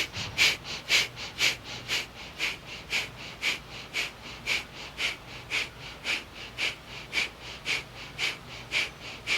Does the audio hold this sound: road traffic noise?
no